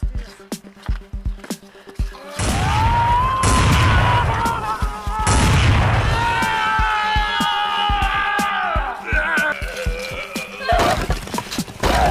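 Rapid gunfire and shattering blasts from a horror movie or game, loud and dense bursts running for about ten seconds after a quieter opening, with shouting voices and screeching tones mixed in.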